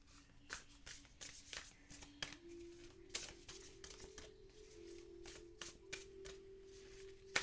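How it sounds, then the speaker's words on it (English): Rapid riffling of oracle cards in repeated fan-shuffle bursts, close and crisp, with a steady faint tone humming underneath. "I do a good fan shuffle"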